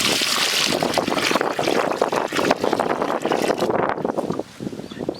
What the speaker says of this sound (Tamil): கொஞ்சம் தண்ணி ஊற்றணும்